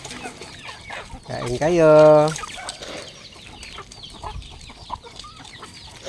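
Backyard chickens cluck close by while being fed in the afternoon, with one loud drawn-out call standing out. A person talks to them throughout.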